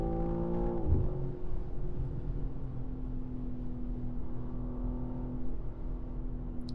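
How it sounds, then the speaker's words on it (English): A sports car engine pulls hard on the road, a rising note that peaks near the start and then settles into a steady, moderately loud drone. "Very strong engine."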